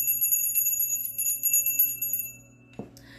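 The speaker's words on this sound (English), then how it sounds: "Let's ring our bell." A small bell is struck and rings out with a bright, sustained shimmer of overtones that slowly fades over a few seconds, followed by a short soft knock near the end.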